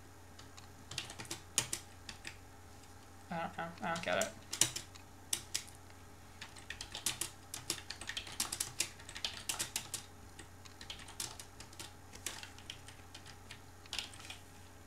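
Quick bursts of clicky keystrokes on a USB computer keyboard come in uneven runs, fairly close and soft, while a man briefly mutters in the middle.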